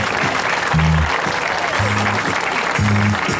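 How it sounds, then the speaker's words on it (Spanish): A crowd at an outdoor political speech event claps steadily and loudly throughout, with a voice speaking in short bursts over the applause. "Denle un aplauso aquí a la señora,"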